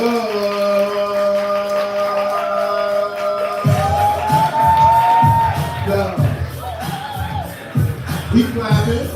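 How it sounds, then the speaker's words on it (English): A live audience at a spoken-word poetry event, a held vocal tone giving way after a few seconds to a crowd whooping, shouting and cheering loudly with rhythmic bursts of noise. "We're clapping, we're building energy. Make some noise for love."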